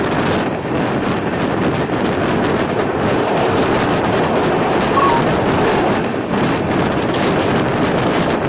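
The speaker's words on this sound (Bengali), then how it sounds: "ট্রেন এখন ওভারটেক করছে Santragachi Howrah bound local train" Loud, continuous rushing roar and rattle from aboard the 18006 Samaleswari Express from Jagdalpur to Howrah as it overtakes a Santragachi–Howrah local train, with heavy wind buffeting steady throughout and no voices.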